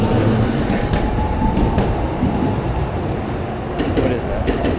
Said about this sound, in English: Tokyo Sakura train.